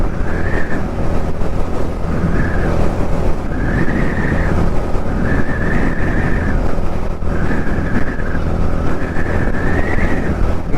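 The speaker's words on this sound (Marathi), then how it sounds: "मी थोडंसं थ्रॉटल वाढवत होतो, ॲक्सेलरेटर." Bajaj Dominar motorcycle ridden along a valley road, its engine droning loudly as the throttle is opened, with heavy wind rush and a recurring rising whine throughout; no talk.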